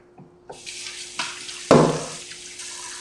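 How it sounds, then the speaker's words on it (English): Tap water fills a pot in a steady broadband rush, with a few clunks and knocks of kitchenware along the way. "fill that with water"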